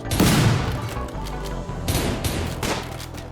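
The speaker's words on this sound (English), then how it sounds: "So we're shooting these assholes." Dense gunfire rattles through a Rimworld battle, overlapping bursts and single cracks filling the whole stretch at close range with no talk over it.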